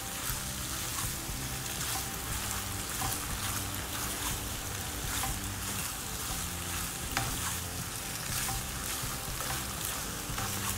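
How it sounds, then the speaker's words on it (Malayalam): Boiled macaroni being stirred into masala in a frying pan, a continuous close sizzle with repeated rhythmic scraping and tossing of the spatula throughout, no voices. "നന്നായിട്ട് ഇതിൽ കൂടെ മിക്സ് ചെയ്യാം"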